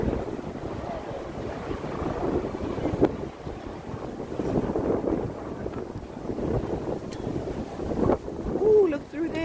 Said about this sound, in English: Ooh, it's very windy.